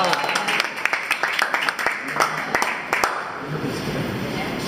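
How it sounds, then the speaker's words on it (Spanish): Scattered clapping from a small group at a birthday gathering in a park, a short burst of hand claps that thins out, with voices and outdoor background underneath. "Un fuerte aplauso."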